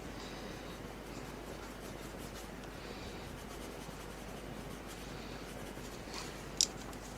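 Coloured pencil shading on paper for a colouring page, a soft, steady scratchy rubbing close up and quiet, continuing without pause with a brief faint click near the end.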